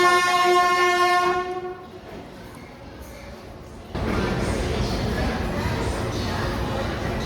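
The Kuvempu Express passenger train sounds a long, loud horn blast that cuts off, followed by a quieter lull and then a rising steady rumble of the train rolling along the tracks.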